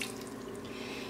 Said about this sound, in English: So here's my water, and we're gonna add 1/3 cup.